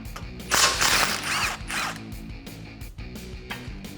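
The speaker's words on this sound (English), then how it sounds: "take the 3 8 millimeter bolts and remove them. Grab that 8 millimeter socket" A ratchet with an 8 mm socket backs out dust shield bolts on a 2009-2020 Ford F150 during a leveling lift install: close, loud bursts of rapid clicking ratchet strokes, alone without talk.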